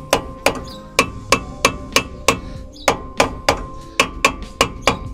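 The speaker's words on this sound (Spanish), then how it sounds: "Ya nada más le damos ligeritos golpes." Light hammer taps seat a front wheel bearing on a VW Combi van, a dozen sharp, evenly spaced metallic strikes ringing close by with short decays and no talking.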